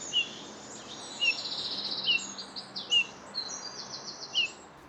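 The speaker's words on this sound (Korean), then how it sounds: "멋쟁이 새." Eurasian bullfinch singing outdoors among fallen leaves: a series of short, soft high whistled calls repeated every second or so, moderately distant over a faint background hum.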